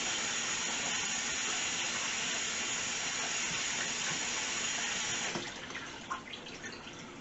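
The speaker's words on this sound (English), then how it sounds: "Get my hands washed here a little bit, cleaning up some of this" Hands being washed under a running kitchen tap: a steady close rush of water hissing for several seconds, then breaking into uneven splashes as the hands move through the stream, with no talking.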